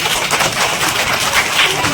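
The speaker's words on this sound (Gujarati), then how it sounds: "જોરદાર તાળી પાડો ભાઈ" An audience at a school children's parliament event applauds, a dense wash of clapping from many hands that holds steady and loud throughout, with faint voices mixed in.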